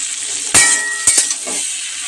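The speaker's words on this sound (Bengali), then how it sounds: "ঢেঁড়স ভাজতে কিন্তু অনেক সময় লাগে" Okra sizzles in hot oil in a wok, a steady close hiss broken by a few sharp bursts of crackle and a light clink of a utensil, with no talking.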